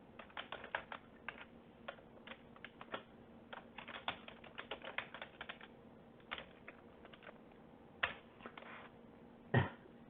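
Someone types a Java hello world program on a computer keyboard, a faint, uneven patter of key clicks running for about ten seconds, with a few sharper taps near the end and no voices.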